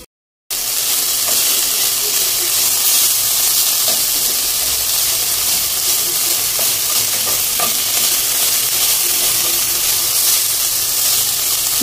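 Pieces of chicken breast browning in a pan, a loud, continuous sizzle with stirring scrapes and bubbling that starts abruptly after a brief silence and carries on alone.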